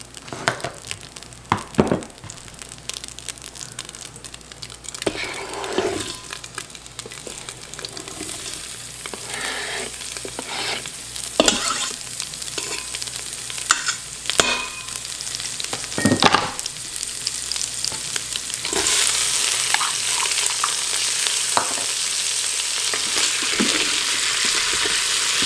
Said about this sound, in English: so I can saute my vegetables. I'm gonna do a dab of toasted sesame oil